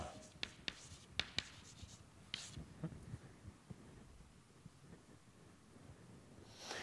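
Chalk or marker tapping and scratching out an equation on a board during a mathematics lecture, a quick run of sharp taps followed by softer strokes, faint and close with room hum, no speech.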